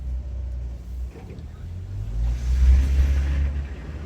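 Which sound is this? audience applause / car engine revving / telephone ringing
car engine revving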